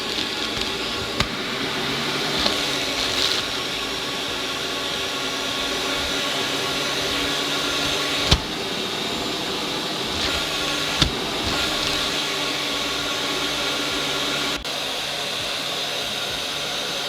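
A Kotto fume extractor runs at a steady, loud fan whoosh and hum for the whole stretch, interrupted only by a few sharp clicks and knocks.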